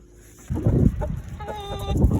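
Chickens cluck nearby in short bursts, a few hens calling over one another, close and fairly loud.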